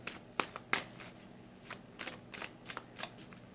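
A deck of tarot cards is shuffled quietly and close up, giving soft repeated riffling bursts in an uneven rhythm with no voices.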